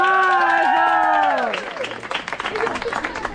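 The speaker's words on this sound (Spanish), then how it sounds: "¡Fuerte el aplauso para la mamá!" Applause and cheering from a crowd honoring a mother at a school gathering, rising as a sustained voice fades, with clapping continuing loud and close.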